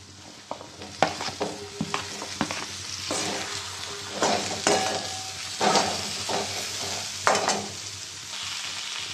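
Dried fish dropped into a spiced masala in a pan, sizzling and frying while a utensil stirs and scrapes, with irregular louder clatters and bursts of hiss over a low steady fry.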